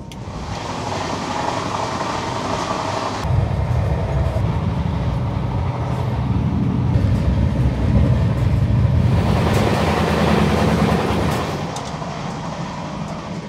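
A passenger train between Shalimar and Sambalpur running at speed, its steady loud rumble and rushing rail noise continuous throughout, heard from inside a 3 AC coach, deepening in tone partway through.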